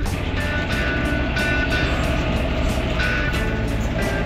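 A farm tractor being driven in reverse, its engine droning steadily under a loud backup alarm that beeps in a regular repeating rhythm, close by and continuing throughout.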